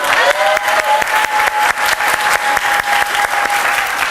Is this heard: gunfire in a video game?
no